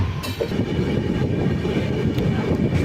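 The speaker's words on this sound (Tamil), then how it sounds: "அங்கே போயிட்டுருக்கிற ட்ரெயின் பார்த்தீங்கன்னா நம்ம யஷ்வந்த்பூர் டு ஒசூர் மெமு" A Yeshwantpur to Hosur MEMU train rumbles past on a curve, with a steady loud roll of wheels, faint clatter and light wind buffeting, and no talk over it.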